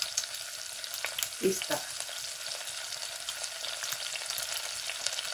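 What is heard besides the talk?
potato and carrot tikki frying in a pan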